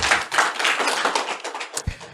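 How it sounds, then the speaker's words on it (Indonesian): A short, dense burst of audience clapping in a radio talk show studio, close and fairly loud, ending with a few scattered claps. "Tepuk tangan."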